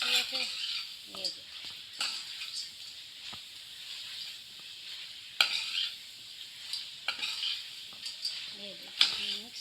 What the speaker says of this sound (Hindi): ये अब मैं इसमें डालूँगी अपनी फ्राई किए हुए बटेरे